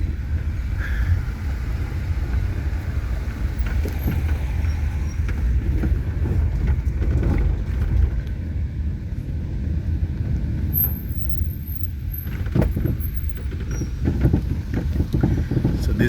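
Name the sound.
car driving on a road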